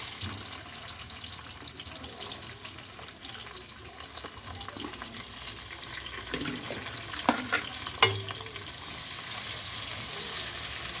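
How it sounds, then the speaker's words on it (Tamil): Finely chopped onions sautéing in a pan for kathirikkai kara kuzhambu, a soft steady sizzle with occasional stirring scrapes and clinks, close but quiet, no talking. "இப்போ வெங்காயம் நல்லா கருவேப்பிலையெல்லாம் சேர்ந்து நல்லா பொன்னிறமாக வதங்கி வரும்"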